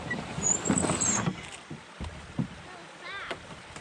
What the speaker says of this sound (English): it's a canoe going over the beaver dam